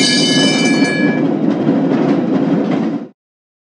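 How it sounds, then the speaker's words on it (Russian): A tram running on rails, a loud steady rumble with a high whine at the start, continuous for about three seconds before cutting off abruptly. "Трамвай."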